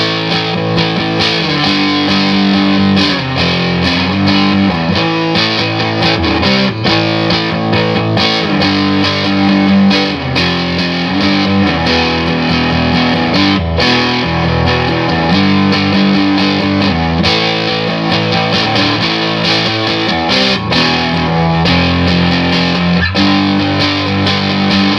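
A Gibson Les Paul electric guitar on its middle pickup, played through distortion, chugs through a continuous loud riff of crunchy chords and notes with steady rhythm throughout.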